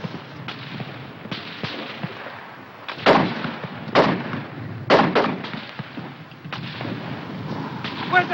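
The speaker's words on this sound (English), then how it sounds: "Keep firing that mortar!" Mortar rounds fired in a WWII battle scene, a handful of loud, sharp booms spaced a second or two apart over a steady background rumble of combat.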